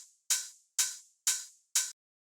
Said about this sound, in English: So next thing is this hi-hat,